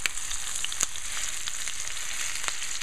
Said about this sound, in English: I'm going to sear it on a hot frying pan.